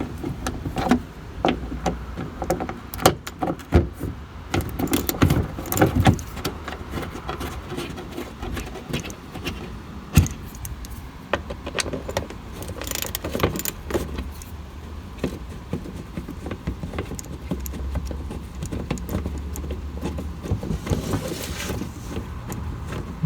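A 10mm socket wrench works loose the bolts of an engine splash skirt on a Toyota Camry with a 4-cylinder 5S-FE engine, giving rapid ratcheting clicks, metallic rattles and clanks in irregular bursts close by.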